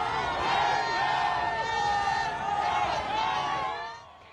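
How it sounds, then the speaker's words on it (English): Football fans cheer at the LA Rams championship parade and rally in Los Angeles: a dense, steady crowd roar with whoops and shouts, loud and continuous before fading out near the end. "Countless football fans helped cheer on the LA Rams at a championship parade and rally today"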